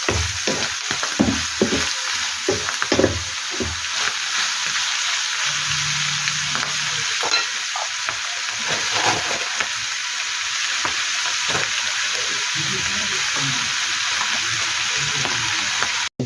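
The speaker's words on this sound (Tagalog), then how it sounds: "Tumatalsik-talsik na yung mantika ng ating ginigisa" Oil spatters and crackles loudly while aromatics sauté for a Filipino-style spaghetti sauce, a dense continuous sizzle with scattered pops and stirring taps throughout.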